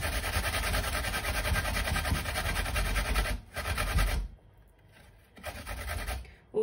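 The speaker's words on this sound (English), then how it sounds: "You can blend the ginger and the garlic if you like, but I'm just grating it, it's just much easier." Fresh ginger and garlic grated by hand for a chicken biryani, a steady close scraping rasp that runs continuously, stops briefly, then returns in short bursts.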